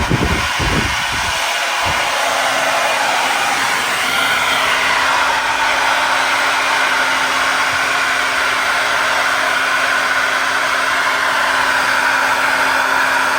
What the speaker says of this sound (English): now she's ready for her blow dry